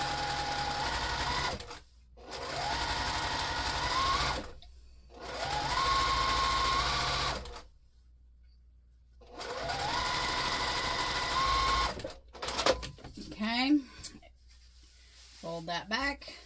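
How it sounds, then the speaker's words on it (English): A sewing machine stitches down a quilt strip on a pumpkin potholder, made quilt-as-you-go, in three steady motor runs with brief pauses between them. A voice talks near the end. "And then we're just going to stitch all the way down."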